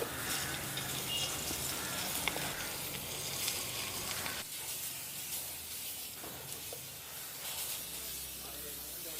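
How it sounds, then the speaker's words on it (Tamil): Paneer pieces frying in hot butter and coconut oil, giving a continuous close hiss and sizzle with a brief dip partway through, then steady spattering to the end. "இதுக்குள்ளே வந்து இந்த பன்னீரை போட்டு பொரிச்சு"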